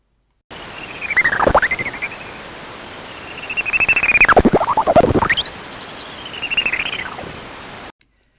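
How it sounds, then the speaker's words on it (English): Three high-pitched warbling horseshoe bat echolocation calls, each sweeping down and back up, separated by short gaps against a steady hiss. "The sound produced is very different from the calls that we've heard so far"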